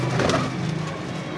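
Pigeons coo briefly at a pigeon loft near Faisalabad, a soft low call half-buried in steady background noise.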